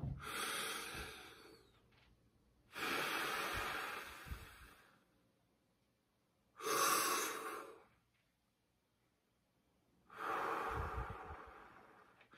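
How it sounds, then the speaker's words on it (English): Wim Hof method breathing during cold exposure: four long, forceful, noisy breaths, each about one to two seconds, separated by short quiet gaps, close and loud, with no talking. "So I'm gonna just start doing some breathing."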